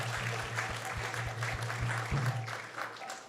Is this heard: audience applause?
yes